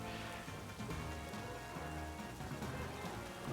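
Continuous in-game rain from Pokemon Violet, a soft, uniform hiss of falling drops that stays level and unbroken, with only a faint hint of voice beneath.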